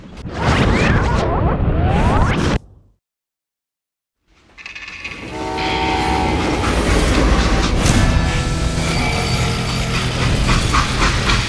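A train in the western game Call of Juarez Gunslinger rumbles loudly and close, cuts out to near silence, then returns as a steady rolling roar with metallic clatter and tonal screeching.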